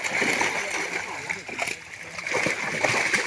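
Fish being tossed into a village pond in West Bengal, making close, continuous splashing and sloshing water sounds, with people talking nearby.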